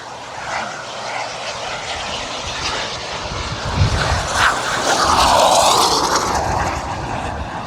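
A giant 3.4 m Global Jet Club Viper Jet RC airplane flies overhead at Florida Jets, a sustained jet roar that swells and sweeps in pitch as it passes, moderately distant.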